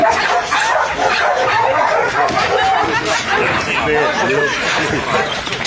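Several police service dogs barking and yipping close by, with whimpers and chatter mixed under a voice talking over them.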